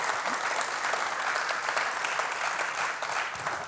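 Steady applause from a conference audience at an HBCU presidents panel, a dense wash of clapping that holds at an even level throughout without voices.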